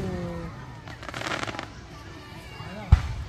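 Aerial fireworks at a summer fireworks festival at Blumen Hill in Shiga, Japan, sound as a rough burst of crackling mid-clip and a sharp thump near the end, heard under nearby voices and crowd murmur.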